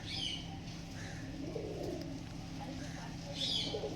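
Pigeons coo softly in low, throaty bursts with a few faint chirps, heard at moderate distance under a steady low hum.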